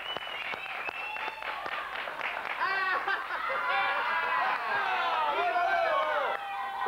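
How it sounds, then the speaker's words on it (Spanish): Studio audience applause on a comedy show, clapping and cheering that swell over several seconds and mix with laughter and a few shouts, with voices heard through it. "el aplauso para el ingreso del pingüino"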